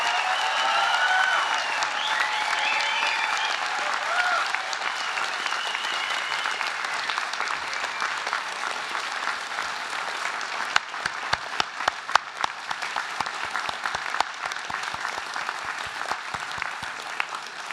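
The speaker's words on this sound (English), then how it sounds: "So let's give them a really strong round of applause." A large graduation ceremony audience at UTS applauds the Faculty of Design, Architecture and Building graduates in long, sustained clapping, with cheers and whoops early on and sharper individual claps standing out toward the end.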